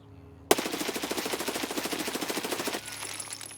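Automatic rifle in Escape from Tarkov firing one long, loud, uninterrupted full-auto burst of rapid shots for a little over two seconds, then stopping sharply into quiet.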